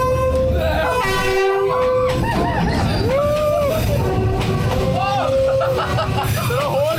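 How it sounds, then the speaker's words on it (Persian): A train rolls slowly through the narrow Train Street in Hanoi, Vietnam, its horn tooting close by over a rumble of wheels, while people talk nearby. "اینجا بیاد قطار رد شه، درسته از همین جایی که وایسادیم"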